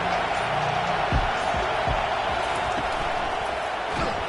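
Football stadium crowd at a Florida State game roaring steadily behind the defense on third down, a broad sustained din with a few faint thuds.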